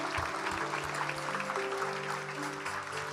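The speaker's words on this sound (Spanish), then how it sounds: "Dale el aplauso a la palabra, entonces, si así lo deseas." A church congregation applauds after a Spanish-language sermon, with steady, dense clapping from many hands filling the room at a fairly even level.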